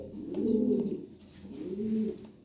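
A pair of giant-sized Lahori pigeons, one male and one female, coo in two long, rolling phrases. The birds are close and clearly heard, with no voices over them.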